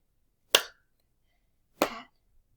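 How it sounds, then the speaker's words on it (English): Two sharp hand strikes about 1.3 seconds apart, a pat on a surface followed by a brighter clap, close and alone in a quiet room, part of a slow pat-pat-clap rhythm. "So pat, pat, clap, pat, pat, clap."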